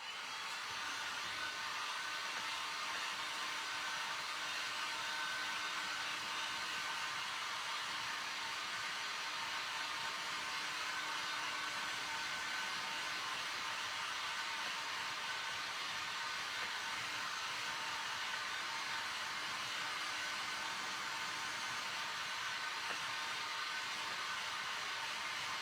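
A hair dryer blows on a stack of thrifted books being made into a black crow book-stack craft, producing a steady, unbroken airy roar for nearly half a minute with no voices.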